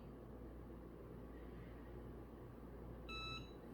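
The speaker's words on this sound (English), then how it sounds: "It's gonna beep right now." A short electronic beep sounds once near the end, over a quiet low hum of machinery.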